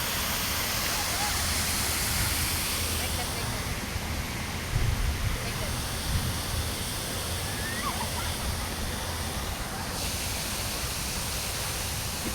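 Water flows steadily in a Chinese-style garden at Yunnan Garden, NTU, a constant even rush like a small waterfall or stream, with faint voices nearby.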